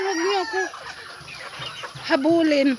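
Chickens cluck and squawk close by in short bursts, with a person speaking briefly over the birds.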